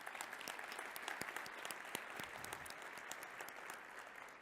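Audience in a hall applauding corporate sponsors at a French-language event, steady dense clapping from many hands throughout, moderately distant and even.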